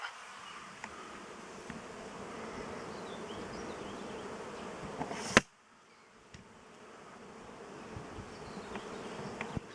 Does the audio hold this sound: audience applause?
no